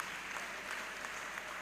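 A crowd applauds at a stage show to welcome a dance group, a short burst of steady, moderately distant clapping.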